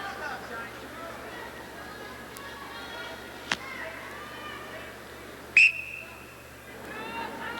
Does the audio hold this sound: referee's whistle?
yes